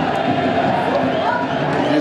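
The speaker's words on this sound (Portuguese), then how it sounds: "E em festa a torcida do Jurubeba." Amateur football fans of Jurubeba celebrating a championship title in São Bernardo do Campo, a dense crowd roar and chanting held at constant volume, with a commentator's voice over it.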